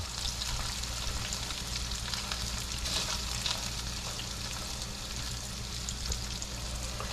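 Ground beef fries in a pan of its own grease, a steady, dense sizzle crackling evenly throughout without pause or voices.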